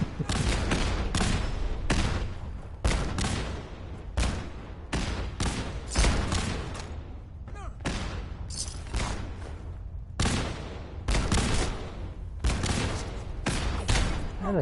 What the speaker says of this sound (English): Is that a Gatling laser?